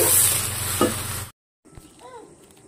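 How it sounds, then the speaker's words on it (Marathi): Onion fries in a pan with a steady, close sizzle that cuts off abruptly halfway through, followed by faint room sounds and a bit of talking. "इथे कांदा भाजून घेते तोपर्यंत"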